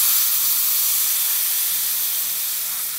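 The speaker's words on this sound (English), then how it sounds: "do not take the cap off of your pump sprayer before you relieve the pressure" Pressure hissing out of a pump sprayer as it is relieved, a steady loud airy hiss that holds for about three seconds and tapers slightly toward the end, with no talk.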